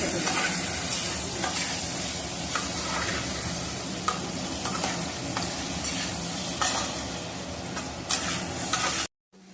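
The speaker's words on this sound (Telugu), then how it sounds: "ఇలాగా గోల్డెన్ బ్రౌన్ వచ్చే వరకు మనం కొంచెం ఫ్రై చేసుకోవాలన్నమాట" Onions frying in hot oil until golden brown, a loud, dense, steady sizzle with repeated scraping stirs, cutting off abruptly near the end, with no speech.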